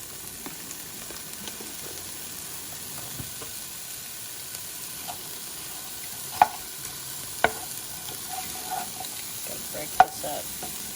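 Food frying in heated olive oil in a home kitchen pan, a soft steady sizzle with occasional stirring clicks and a few sharp utensil taps, close and fairly quiet, with no talking.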